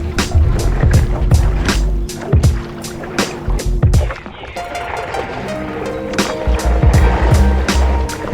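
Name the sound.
stand-up paddleboard crashing into ice on Lake Ontario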